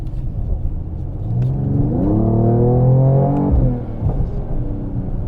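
A Mercedes-AMG GT 53 4-door 4MATIC+ accelerates hard, its engine note rising steadily in pitch and volume for a couple of seconds before the throttle lifts and it settles back to a low rumble.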